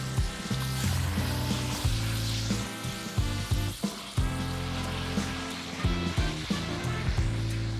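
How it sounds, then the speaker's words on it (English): Minced onions and garlic sizzle steadily in a pot, a close, continuous frying hiss broken by occasional clinks and stirring knocks. "add in your minced onions and garlic and saute for a couple of minutes"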